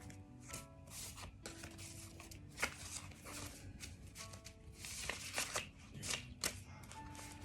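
Tarot cards shuffled by hand in a quiet indoor reading, a run of soft papery riffles and flicks with a few sharper snaps, close and moderately quiet throughout.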